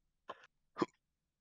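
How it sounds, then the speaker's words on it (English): Two short, soft hiccup-like vocal bursts about half a second apart, close and isolated in quiet, during a board game session. "Because I heard a hiccup again."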